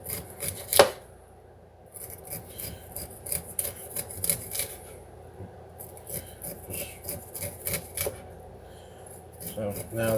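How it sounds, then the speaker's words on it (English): A knife slicing kernels down the side of a cooked corn cob for salsa: repeated close, rasping cuts and scrapes against a board, with a brief clatter near the start. "Then what you're going to do is just kind of cut it smoothly, straight down."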